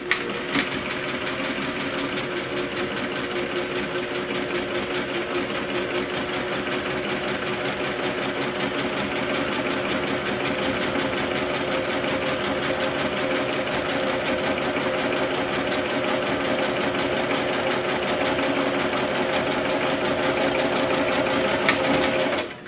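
A sewing machine runs continuously while stitching a fabric bag handle, a steady, fast, close mechanical whir with a dense rapid needle rhythm. It runs alone at an even level for over twenty seconds.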